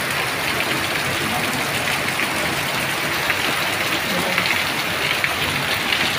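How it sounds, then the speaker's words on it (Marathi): Heavy evening rain pours steadily as a dense, unbroken wash heard from a doorway, with no distinct thunder standing out. "खूप पाऊस आहे, एवढा पाऊस आहे काय सांगत तुम्हाला, खूप म्हणजे खूपच पाऊस आहे।"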